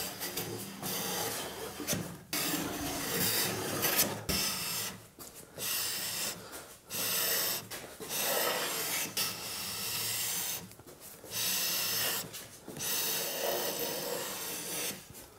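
Wood edges being shaved for a custom bass guitar build, heard as repeated rasping, hissing strokes in bursts of a second or two separated by short pauses, close and fairly loud with no speech.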